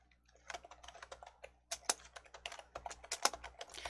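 Fingers type a scenario name for an Excel exercise on a computer keyboard, a quick, fairly quiet run of clacking keystrokes with a short pause and then a faster burst, and no talking.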